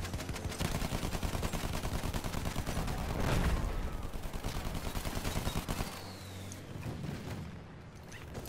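Dense, sustained suppressing gunfire from rapid automatic weapons fills a Battlefield 1 Operations battle at Soissons, loud and continuous with heavier bursts before easing slightly toward the end.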